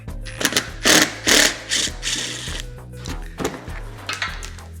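Screws being worked loose from the rear bumper of a first-generation Subaru Justy: a series of close, short whirring bursts from a driver, several in quick succession with brief pauses between them.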